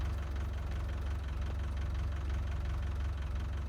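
A moped idles steadily close by, a continuous low, knocking engine rumble holding even for the whole stretch with no voices over it.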